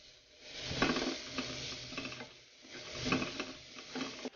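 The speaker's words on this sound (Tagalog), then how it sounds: "Lagay na rin natin ang sibuya." Onion sautés in a pan for pinakbet, a quiet sizzle swelling in two waves of scraping, clicking stirs that fade between them, close and low in level, with no talk.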